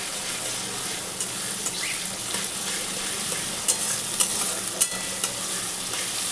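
Crushed garlic frying in a pan for a fish dish, with a steady broad sizzle and a few soft scrapes of stirring, fairly close and continuous throughout.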